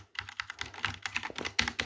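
Rapid keystrokes clatter on an RGB computer keyboard, a steady run of close, crisp clicks with a few louder strikes near the end and no talking.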